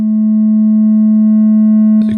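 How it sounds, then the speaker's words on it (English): A Shakmat Centaur's Gates synth module holds a loud, steady sine VCO tone with a faint parallel distortion adding soft upper harmonics, then breaks into a brief noisy burst at the end. "You can hear at low level we have a parallel distortion."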